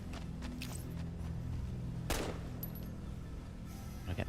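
Gunfire in the video game Fallout: repeated sharp shots over steady background game noise, with one loud crack standing out in the middle and a few more shots near the end.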